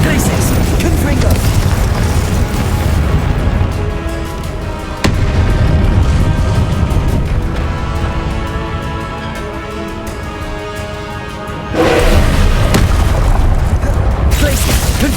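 Spell blasts and booming explosions from Hogwarts Legacy combat rumble loudly and almost continuously, with sharp bursts near the 5- and 12-second marks, heavy low-end rumble and game music or effects layered throughout.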